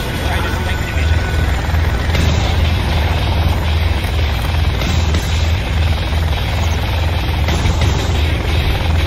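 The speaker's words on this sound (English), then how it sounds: "MiG in flight." A MiG jet in flight in Command and Conquer gives a constant, loud, droning engine roar that holds steady throughout, with battle sounds and voices over it.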